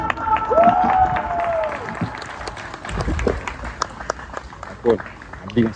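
Assembly audience applauding at a formal gathering, clapping fading under a sustained tone and then thinning to scattered claps with a few louder bursts.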